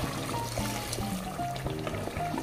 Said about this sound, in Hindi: तो मैं यहाँ पे 2 कप डाल रही हूँ